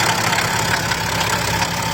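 A BMW X6 engine runs with its belt removed, a persistent noise coming from the exhaust turbo side; close, steady idling drone with a faint knocking texture throughout, no talk.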